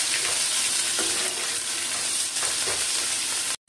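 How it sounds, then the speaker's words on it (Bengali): Chili, cumin and onion frying in a pan, a dense, steady sizzle that runs loud and close throughout, with faint stirring scrapes, before cutting off abruptly at the end. "একটু নেড়ে লঙ্কাটা একটু লাল লাল করে ভেজে নেব, জিরেটাও লাল করে ভাজবো, পেঁয়াজটা একটু লাল লাল করে ভেজে নেব"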